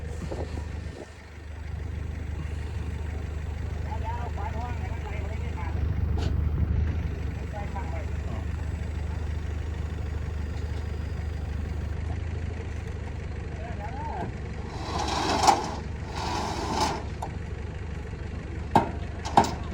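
A tractor engine idles steadily for the full stretch, a low constant rumble with faint voices and a few sharp knocks near the end.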